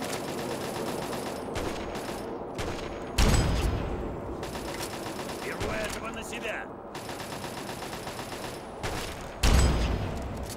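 Automatic gunfire in Fallout 3 crackles in dense bursts, with two sharp heavy blasts standing out, over constant game noise, during a fight with a flamethrower-armed enemy; a player speaks at times.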